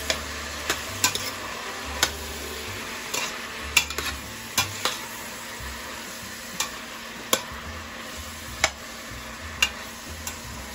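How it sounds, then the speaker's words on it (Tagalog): Menudo ingredients sautéing in a pan, with a steady sizzle and repeated sharp clicks of a utensil scraping and stirring against the pan every second or so, close and fairly quiet, with no talking. "Ligisa muna niya guys."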